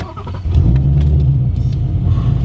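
A procharged, modified 800-horsepower 2017 Shelby GT350 engine cranks and catches, settling into a loud, steady low rumble that idles on after a brief quieter start.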